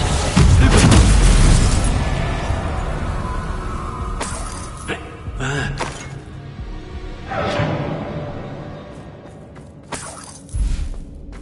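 In Hogwarts Legacy, a Confringo spell sets off a loud, close explosion with a shattering crack. Smaller bursts, whooshes and crashes follow over several seconds, and a short sharp boom near the end cuts through the fading debris.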